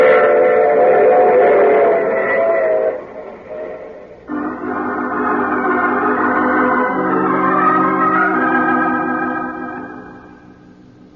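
A train effect from an old radio mystery drama rolls along loud and close, with a steady rumble and layered whistle-like tones that shift midway and then fade toward the end.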